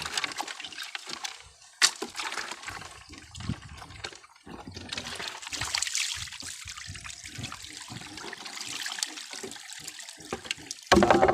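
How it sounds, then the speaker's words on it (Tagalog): River snails being washed in water make a close splashing, sloshing and trickling sound with shells clattering, irregular bursts over a quiet background. "kailangan nating hugasan itong ating suso para yung mga durog na shell ay hindi sumama sa ating lulutuin"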